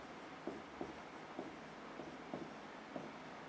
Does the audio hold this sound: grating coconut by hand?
no